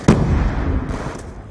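A bomb charge detonates in a team shooter match, a single sharp, loud blast followed by a rumbling decay and a faint second burst near the end.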